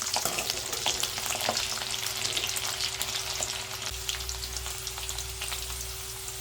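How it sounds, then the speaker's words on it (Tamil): Garlic cloves and mustard seeds sizzle steadily in hot oil, a broad continuous frying hiss with scattered crackles and pops, close and moderately loud, with a low hum underneath and no talk. "இப்போ எடுத்து வச்சுருக்கிற பூண்டு போடுவோம். பூண்டு நல்லா வதங்கட்டும்."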